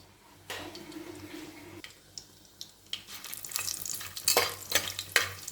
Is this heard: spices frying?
yes